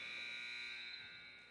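Halftime buzzer at a varsity girls basketball game, one sustained, harsh electronic tone sounding loud and steady throughout, fading slightly at the end.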